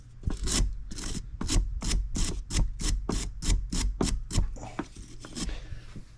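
Soft aluminium car air-conditioning parts from a barn-find Camaro are scrubbed clean by hand, making about a dozen quick rhythmic rasping strokes up close with no talk.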